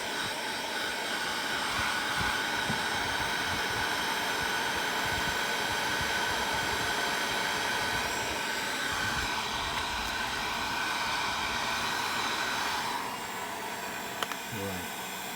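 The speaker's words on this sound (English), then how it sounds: "So I'm just using like a Ozito heat gun, and then like what we are doing here is like just giving some sort of heat." An Ozito heat gun blows steadily nearby while drying a water-damaged iPhone 6 Plus, a loud continuous airy roar that holds for the whole stretch and dips slightly near the end.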